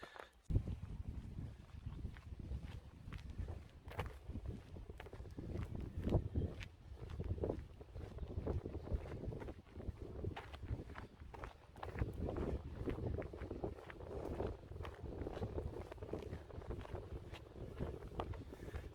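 Wind buffets the microphone outdoors in a Swiss valley between Zurich and St. Gallen, a steady rumbling gust noise with occasional faint footsteps, fairly quiet throughout.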